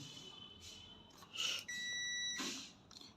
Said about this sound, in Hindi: यहाँ से बीप मार रहा है